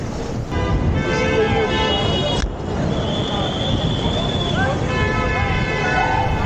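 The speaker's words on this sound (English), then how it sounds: "The honking and cheers from onlookers happened a few times that night." Car horns tooting repeatedly in London night traffic during a group skate, with voices and cheers from onlookers over a steady roadway rumble.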